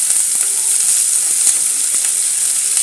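Chopped onions hit hot oil with spluttering cumin seeds, giving a bright, continuous close sizzle with faint stirring clicks underneath; no voices.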